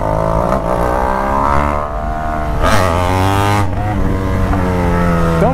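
A BMW 1200 motorcycle engine revs loudly and steadily up close, its pitch rising and falling through several throttle blips over a constant heavy drone.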